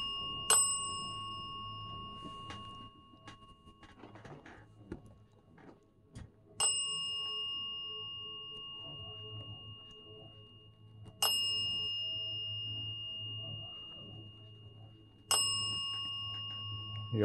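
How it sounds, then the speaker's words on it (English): A large ventriloquist clown doll's bell, still in working condition, rings four times with bright metallic strikes spaced several seconds apart. Each ring lingers and fades over a low steady hum. "it's making the bell go crazy"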